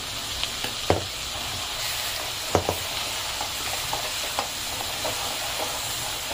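Ground masala paste sautéing in a pan for Kolhapuri mutton rassa: a steady, close sizzling hiss throughout with a few sharp stirring clicks and scrapes.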